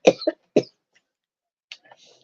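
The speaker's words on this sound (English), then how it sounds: "this stupid cough is coming back" A few sharp coughs up close, two quick ones and then another, followed by quieter throat sounds after a short pause.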